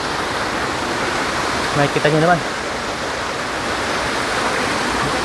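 Panalaban Falls in Majayjay, Laguna pours as a steady, dense roar of falling and rushing water, close and constant throughout, with a person speaking briefly over it.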